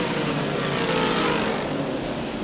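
A pack of race cars accelerates out of turn 4 back up to racing speed at the 1987 Miller 300, a loud, continuous roar of engines that stays dense and even throughout.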